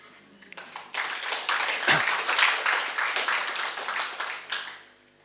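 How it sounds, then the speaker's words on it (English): At a poetry reading, an audience claps after a poem, a burst of many hands that swells quickly, holds for a few seconds and then fades out. "You don't have to applause after every poem, it's okay."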